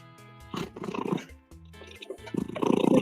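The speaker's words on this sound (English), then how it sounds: "He sounds like he's snoring, not purring." A cat purrs loudly in two long, rough, snore-like breathing cycles, close and heavy, with a rumbling throaty texture.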